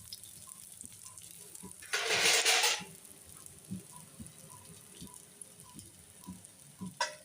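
Oil sizzles softly around corn cutlets frying in a covered pan, a quiet crackle with a brief louder burst of hiss partway through and scattered small ticks.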